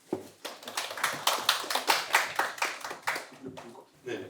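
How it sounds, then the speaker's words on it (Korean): Audience applause greets two university professors arriving to present at a Korean semiconductor lecture event, a steady patter of many hands clapping at moderate volume for about four seconds before tapering off. "박수로 맞으시기 바랍니다"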